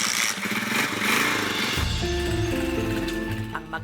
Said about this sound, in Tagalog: Ang mag-ama sumakay na ng motor papuntang eskwelahan.